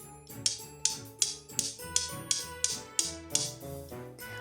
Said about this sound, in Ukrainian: Я візьму камінці і постукаю один об одний.